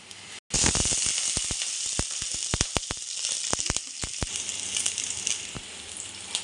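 Steady loud sizzle of carrots, capsicum and chilli frying in hot oil in a wok for veg chowmin, with crackling pops scattered throughout; no talk.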